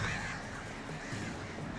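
Crows caw amid a dim, noisy ambience in the video game Alan Wake, a few faint harsh calls low in the mix with no speech.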